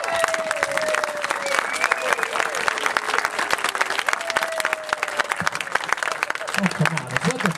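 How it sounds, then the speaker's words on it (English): Crowd at an amateur gong show keeping up loud, continuous applause, sharp individual claps standing out from a dense patter, with cheers, whistles and voices mixed in and some talk near the end. "So I want everyone to just do a continuous thunderous applause."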